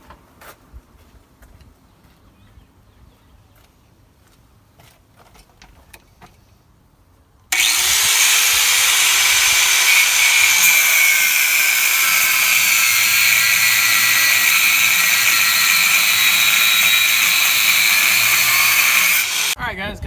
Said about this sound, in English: Using Harbor Freight's best cutter and aluminum oxide 40 grit cutting wheel.